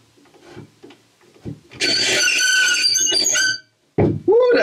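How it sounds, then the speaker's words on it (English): A hole saw with a long pilot bit grinds into wood on a 2.4mR sailboat keel box for a couple of seconds, a loud, high whining drone between quieter knocks and brief rustling. "So I'm using a hole saw just because this is such a tight turn."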